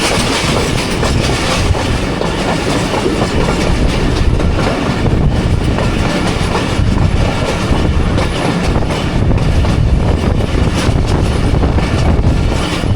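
The Jaffar Express passenger train rolls past close by on the Attock to Rawalpindi line, a loud continuous rumble of wheels clattering over rail joints with occasional metallic squeals, no voices.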